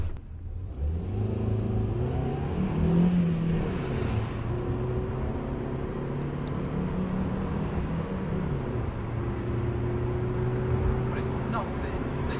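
A Fiat Punto Evo engine revs during a spirited drive after a Seafoam engine treatment, a steady mid-pitched drone that rises and falls through gear changes, close and continuous throughout.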